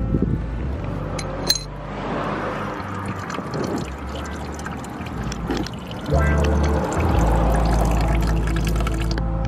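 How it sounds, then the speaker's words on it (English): Engine coolant draining from a 2012 Mustang GT, a steady close pour of liquid with dripping and trickling, growing louder and fuller partway through, with no talking. "I'm gonna drain the coolant right here."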